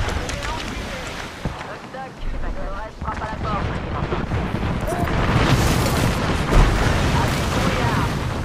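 A frag grenade goes off in a video game with a deep, loud rumbling blast that swells around the middle and trails into a wind-like roar, with game sounds throughout.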